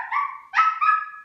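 A pet dog at home gives short high whining yips and barks, two or three tonal cries in quick succession, close and clear with no talk over them.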